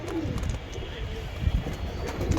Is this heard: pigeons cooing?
yes